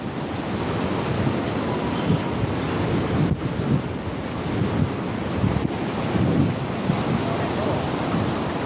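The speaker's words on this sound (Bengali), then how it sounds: "ঢেউ এখন মোটামুটি ঢেউ বড় আছে দেখছে আসতেছে যাইতেছে" Sea waves breaking on a beach in Brunei, a continuous rolling wash of surf with gusty wind buffeting the microphone throughout, loud and close.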